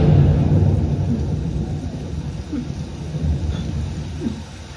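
Steady rain and low thunder rumbles roll through a film scene, with heavy low-end rumble at the start and softer distant rolls later, continuous and without talk.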